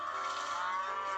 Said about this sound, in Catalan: aquí tenim les vaques menjant